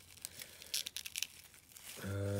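Weird plastic packaging on a Pokemon card package is torn and crinkled up close in quick, uneven bursts of crackling, then stops as a low hum comes in.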